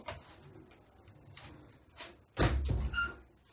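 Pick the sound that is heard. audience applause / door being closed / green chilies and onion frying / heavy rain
door being closed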